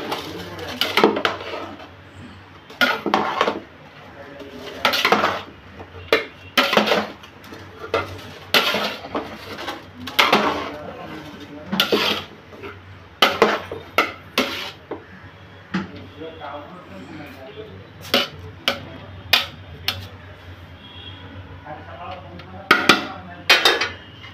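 A spoon scrapes and knocks against a pot of Indian fried rice as it is stirred after the lid comes off, sharp clattering strokes in irregular bursts over a faint sizzle, with quieter gaps between.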